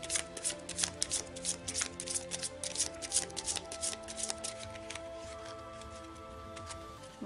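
Oracle cards being shuffled by hand in a quiet room during a full moon ritual, a run of close, crisp riffling flutters and soft card slaps that thins out and stops near the end, with steady background tones underneath.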